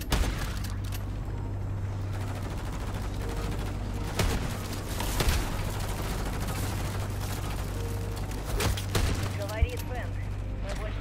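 Gunfire in Call of Duty: Modern Warfare 3 zombies mode crackles in scattered bursts and sharp single shots under a steady low game hum, with a voice talking at times.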